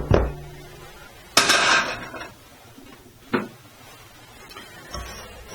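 A bowl of freshly cooked choux pastry dough is set down onto a stand mixer with a few sharp clanks, then a louder scraping clatter and two lighter knocks, close up with no talking.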